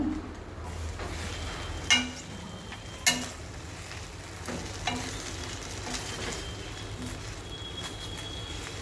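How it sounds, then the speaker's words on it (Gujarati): A spoon stirs leftover rice snack in a pan with a soft continuous scraping and faint sizzle, with a couple of sharper clinks against the pan, and no voices. "અને એનો બરાબર મિક્સ કરીશું."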